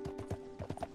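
Horse hooves clip-clop in a quick uneven rhythm in Red Dead Redemption 2, several hoofbeats close by, with a steady tonal hum underneath.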